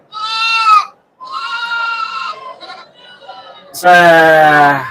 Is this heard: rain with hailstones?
no